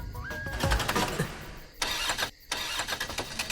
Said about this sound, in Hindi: गाड़ी बंद हो गई और क्या?